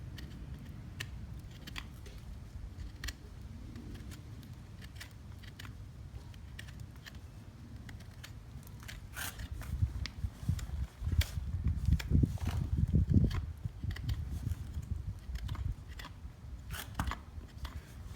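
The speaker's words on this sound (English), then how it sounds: "I'll just trim this back so you can see where the bar is and where it goes" Farrier's knife trimming back the bar of a horse's hoof, with repeated short scraping and cutting strokes that grow denser and louder midway, close up with no talk.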